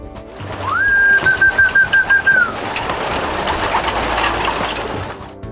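A bird's clear whistle sweeps up and holds a steady tone, followed by a soft, continuous rustling and cooing of pigeons in a loft.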